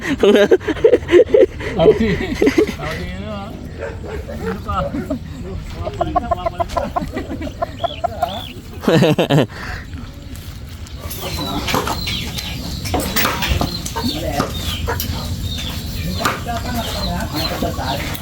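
Chickens cluck and flap nearby in short bursts while people talk over them, with a brief loud rustle midway.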